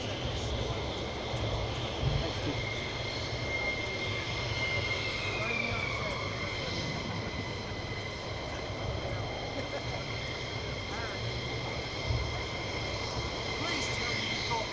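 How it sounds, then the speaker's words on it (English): Military jet aircraft departing RAF Lakenheath, a sustained distant roar with a whining tone that holds steady, fairly faint under a voice talking throughout. "a pre-recorded video of aircraft departing a little while back"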